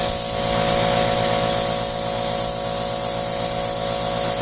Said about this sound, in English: right now I'm just going to slowly rock my throttle on my airbrush